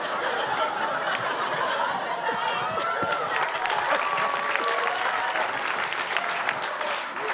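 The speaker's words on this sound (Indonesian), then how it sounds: "Jangan tepuk tangan dulu kalian." A studio audience at an Indonesian comedy quiz show claps in sustained, dense applause mixed with chuckles and scattered voices, loud and continuous throughout.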